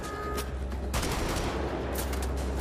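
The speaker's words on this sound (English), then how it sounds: "Grenade. Rambo style." Gunfire bursts in the video game Wolfenstein: The Old Blood, with rapid, loud shots crackling over a rumbling low end and a heavy blast near the middle, no speech.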